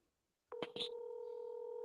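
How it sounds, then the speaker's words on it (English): A steady electronic tone starts abruptly after a short silence, preceded by a couple of quick beeps, holding level and fairly loud to the end. "There's the call. We hear it ringing."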